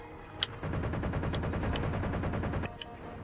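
Rapid automatic gunfire from the video game Halo 4, a dense, steady burst of evenly spaced shots lasting over two seconds, loud and up close with a few separate pops before and after.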